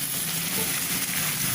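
Tinda (apple gourd) frying in a pan while being stirred, a close, steady sizzle with soft scraping, continuous and fairly loud.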